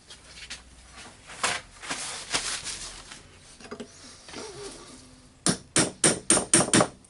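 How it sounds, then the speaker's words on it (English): Metal hammer taps on a Hilti TE 905-AVR demolition hammer during assembly: a few scattered knocks, then a quick run of six sharp, evenly spaced strikes up close. "now I will bump slightly here with a hammer"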